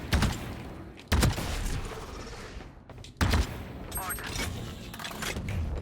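Gunfire in a ranked-season shooter video game: sharp, loud bursts of shots come in two heavy volleys, with a steady rattle of smaller shots and game noise between them, while someone talks over the action.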